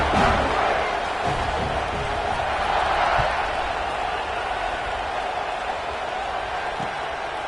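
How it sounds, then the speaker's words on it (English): A football stadium crowd roars steadily at kickoff of a Miami vs Oregon game, a dense sustained wall of cheering with a swell near the start and another around three seconds, continuing loud throughout. "this crowd now ready to get behind them"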